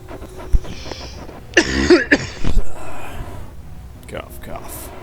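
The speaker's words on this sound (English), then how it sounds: "Cough, cough." A person coughs several times in quick succession, close to the microphone, with a short throat-clearing burst, amid quiet background.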